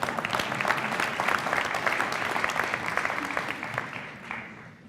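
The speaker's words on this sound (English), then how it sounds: "Yeah, that's an applause line." Dense audience applause fills a school ribbon-cutting ceremony celebrating Maryland's first net zero school in Howard County, steady and close for several seconds before thinning slightly toward the end.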